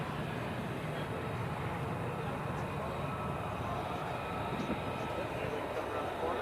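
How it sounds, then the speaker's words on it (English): A plane takes off in the distance near an airport in Vermont, a steady broad roar of jet engine noise that holds evenly throughout without clear changes. "that plane's taking off"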